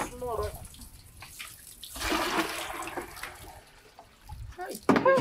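Water gushes and splashes at a borehole as it is drawn into a container, a rushing burst in the middle with people talking over it near the start and end.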